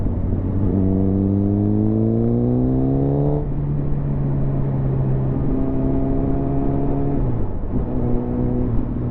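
A Suzuki GSXR1000 litre-class motorcycle engine revs steadily upward through a gear while riding on the road, with rising harmonic whine. The revs hold, drop briefly at a shift, and then climb again. Wind roar runs loud and constant underneath.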